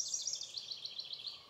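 White-crowned sparrow calling in a rapid series of thin, high chirps, faint and somewhat distant, repeated evenly throughout.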